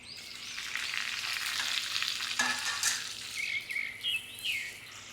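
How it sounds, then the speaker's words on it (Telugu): Okra for pickle hits a hot pan and sizzles steadily while being stirred, a bright frying hiss with scraping strokes that swell and ease in short bursts, close and moderately loud. "ఇప్పుడు బెండకాయలు వేసేసుకుందాం."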